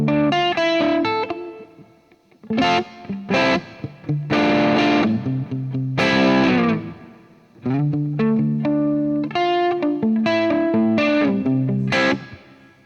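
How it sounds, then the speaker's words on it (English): Guitar through a DMME DSP-1 multi-effects pedal with reverb engaged: loud strummed chords and picked notes in bursts, each ringing out with a lingering wash before fading, no talk. "A little bit of reverb."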